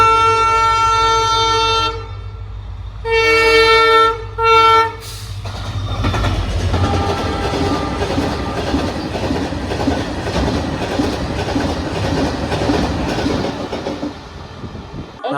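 An electric locomotive train at a railway station sounds several loud horn blasts, then rolls through with a rhythmic, nearby wheel clatter.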